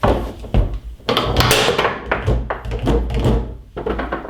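A foosball ball is struck by the five-bar rod on a table, giving sharp thunks and knocks that repeat irregularly with rattling rod and ball movement.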